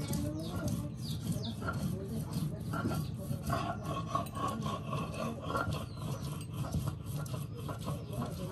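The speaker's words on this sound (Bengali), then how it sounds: "পেঁয়াজ রসুন জিরা সব বেটে নেওয়া হচ্ছে।" Onion, garlic and cumin ground on a stone slab in a village kitchen, giving a continuous close rhythmic rasping and rubbing of stone on stone, with birds chirping faintly in the background.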